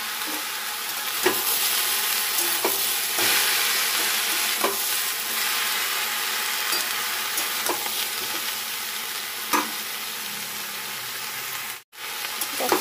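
Winter vegetables frying in oil for khichuri give a continuous loud sizzle close by, with occasional soft clinks from stirring and a brief drop near the end, no voices.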